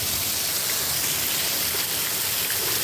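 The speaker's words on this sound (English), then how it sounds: "The rain coming down now." Heavy rain pours during a late-night severe storm, a dense, steady hiss with scattered drop impacts, loud and unbroken, with no talking.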